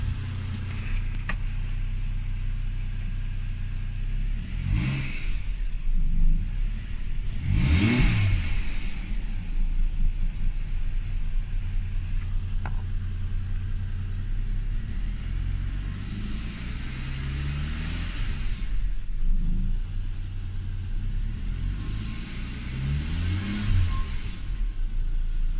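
A Holden Commodore G6E engine with a new fuel pressure regulator revs up several times, rising and falling in pitch in repeated bursts over a steady idling rumble, fairly close and loud, with no voices.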